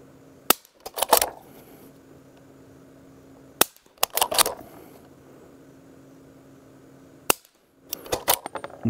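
Suppressed rifle shots from a Q Mini Fix SD and a Ruger American fitted with AB suppressors: three sharp cracks spaced a few seconds apart, each followed by a brief clattering rattle, with quiet gaps between.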